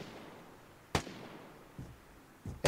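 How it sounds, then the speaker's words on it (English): Gunshots ring out on a rail bridge in the video game Vigor: three separate sharp cracks spaced apart, the first loudest, each with a short echoing tail. "doesn't it sound like those gunshots are on this bridge with me?"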